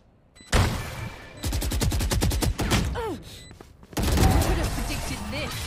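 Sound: gunfire from the video game Valorant

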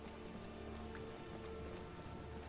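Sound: rain in the video game Skyrim

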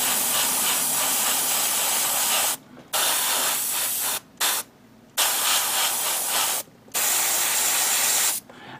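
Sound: Gaahleri airbrush spraying VicHobby paint

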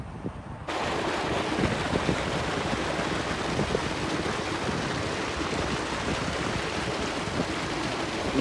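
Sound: tube well pumping water for fields

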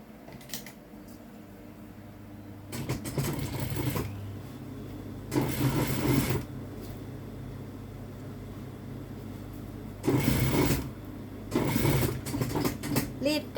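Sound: sewing machine stitching a folded trouser hem

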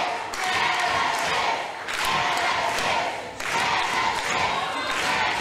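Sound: wrestling crowd cheering in a tent

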